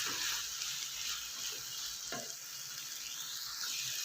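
Punjabi turnip sabji frying in a non-stick pan, a soft, even sizzle with a few light stirring scrapes, quiet and close, with no voices.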